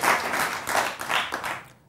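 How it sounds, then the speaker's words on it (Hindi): Studio audience applause during a live Hindi TV news debate show, a dense steady wash of clapping at close range that swells and dips over two seconds before fading out at the end. "आप तालियां चाहे जितनी बजवा लें और बजा लें"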